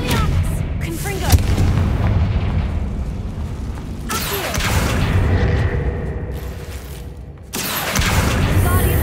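Booming, blast-like spell impacts from the Hogwarts Legacy video game, loud and dense, arriving in three heavy bursts near 0, 4 and 8 seconds over continuous rumbling game audio.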